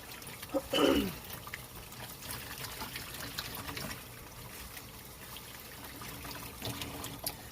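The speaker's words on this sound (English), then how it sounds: "Swish that around a little bit, just make sure all the color comes out." Water swished with a little dish soap while rinsing tie-dyed fabric from a Tulip Color Lab dye kit: a soft, continuous watery trickle and slosh, with a brief louder splash near the start, fairly faint throughout.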